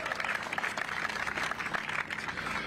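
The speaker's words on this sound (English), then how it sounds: "So let's give these folks in the red coats a big round of applause" Faint, dense applause from a gathered crowd at an outdoor city event, clapping for workers in red coats, sustained and even throughout.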